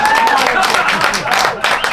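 A small parlour audience at a magic show claps for a cup trick, a short ragged round of hands under cheerful voices and talk.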